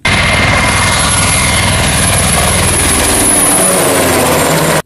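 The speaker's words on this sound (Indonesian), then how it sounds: "ini helikopter militer teman-teman" A loud military helicopter thunders close by, its rotor chopping and engine whining steadily throughout, with no talking.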